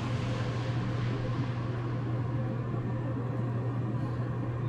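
An Airbus A400M military transport plane accelerates down the runway at the Farnborough 2010 air show, a steady, continuous engine roar with a strong low drone, distant and unchanging.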